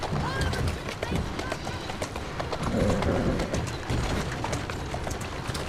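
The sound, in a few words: horse hooves clip-clopping, Assassin's Creed Syndicate video game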